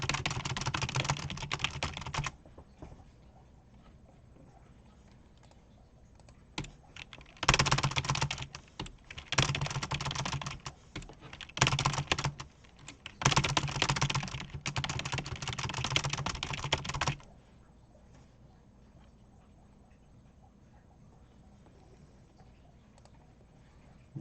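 Fast burst typing on a computer keyboard comes in dense, rapid clattering runs of keystrokes, close and crisp, separated by short pauses and ending in near silence.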